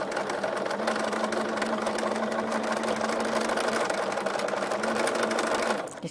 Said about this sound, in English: I'm just going to do another row of stitching.